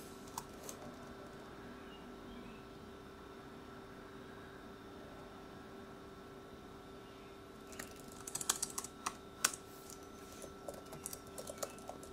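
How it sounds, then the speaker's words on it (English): Computer keyboard keys tap out emails in soft, scattered bursts, faint and close in a quiet room over a low steady hum, the keystrokes clustering near the end. "I'm just typing out different emails."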